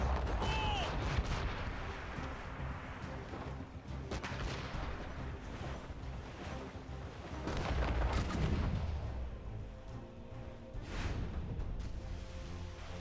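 Ship cannons boom in a naval battle in Assassin's Creed Rogue, a dense barrage of heavy blasts and rumbling volleys over the sea while crew voices shout beneath.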